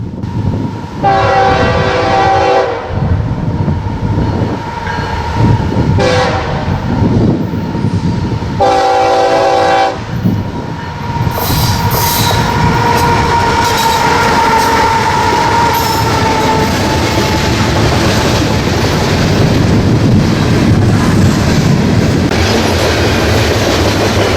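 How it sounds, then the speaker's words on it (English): A CSX freight locomotive pulling covered hoppers rumbles past close by in Columbus, Ohio, its horn blaring in several long blasts before the steady roar and clatter of cars rolling along the track. "is seen pulling a train of covered hoppers"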